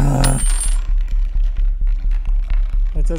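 Keys dropping in a video game: a bright metallic jingle and clatter up front, followed by a steady pulsing game hum.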